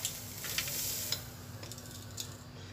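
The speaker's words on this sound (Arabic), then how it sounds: "غادي نضيفو قرفه ونخلطو هادشي هكا شويه" Sugar and cinnamon are stirred together in a bowl, making a faint, steady scraping rustle with a few light clinks from the utensil.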